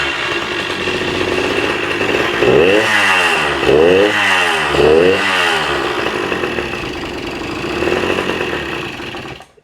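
A Suzuki DS80 80cc two-stroke dirt bike engine runs loudly and close for the whole stretch, a raspy buzz that swells in three quick rev surges around the middle, then settles back toward an unsteady idle with another small rise near the end.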